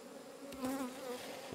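Honeybees buzz steadily in an open hive while splits are moved onto new yards, a dense close hum that swells briefly in the middle and holds throughout.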